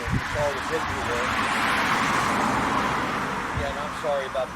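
Road traffic outside near a beekeeping swarm box keeps up as a continuous rushing rumble with a faint passing-car swell, under a man's speech and bits of birdsong.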